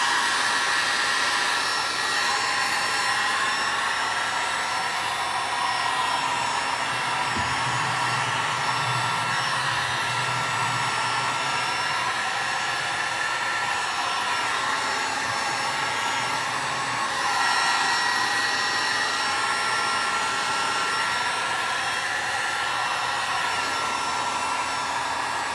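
Steady, loud blowing roar of a heat gun warming the wooden stock of a relic G-98 Imperial German Mauser rifle, running continuously without a break and without talk.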